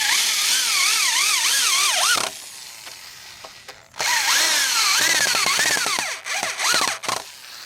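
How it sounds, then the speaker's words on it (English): A power drill drives 3.5-inch screws into a wooden raised bed frame in bursts, its motor whining up and down in pitch, pausing briefly between runs, close and loud. "And tighten up the screws."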